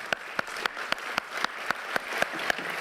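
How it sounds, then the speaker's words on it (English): Audience applauding panelists at a conference session: a soft, sustained patter of many hands with several sharper individual claps standing out at regular intervals, fairly distant and quiet. "I would like to give a big hand of applause to"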